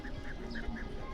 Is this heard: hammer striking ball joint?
no